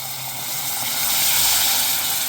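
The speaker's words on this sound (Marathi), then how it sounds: "आता आपल्याला हेच पाणी यामध्ये घालायचं." Hot water poured into a pan of Bombay duck dry fish and potatoes gives a steady, close hiss and steam that swells midway, with no talking.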